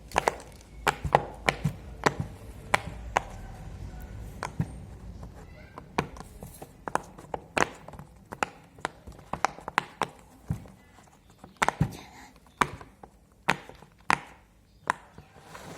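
Rapid, irregular sharp pops, close and crisp, come in quick clusters with brief pauses, like bubbles on a silicone fidget toy being pressed one after another.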